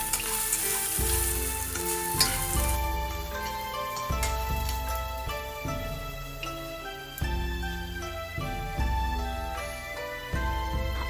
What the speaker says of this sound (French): Fais revenir ensuite les champignons.